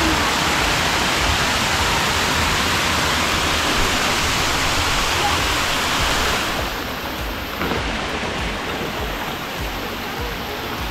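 Aguinid Falls in Samboan, Cebu pours in a dense, loud, continuous rush of falling water, close by and steady, softening slightly toward the end.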